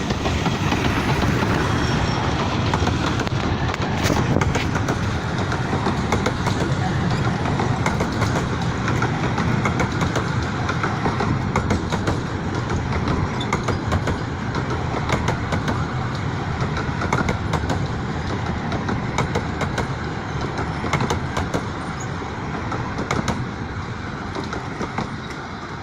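Train led by locomotive No. 2 Northern Chief, built in 1926, rumbling steadily and loudly for the whole stretch with faint rhythmic rail clicks, close by and with no voices.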